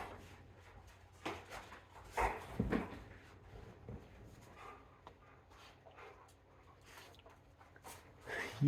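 An Irish Pointer boxer mix dog pants and shuffles about indoors, soft breathy bursts and scattered movement noises, close but fairly quiet.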